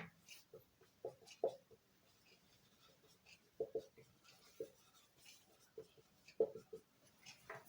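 Marker or chalk on a board while an identity matrix is written: faint, close, short scratchy strokes and taps spaced irregularly, with no talking.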